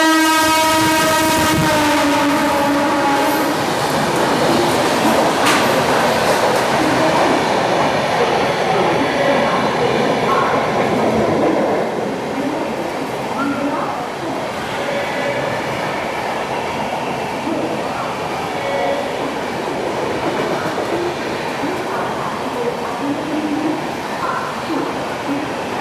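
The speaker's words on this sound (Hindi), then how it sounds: "काफ़ी देर बाद पड़ा है ओवरटेक इसको। मंगला एक्सप्रेस" The Mangla Express rushes past a passenger train in an overtake, opening with a loud horn blast, then a long roaring rumble of wheels and rattling carriages with clickety-clack, heard close from aboard the train.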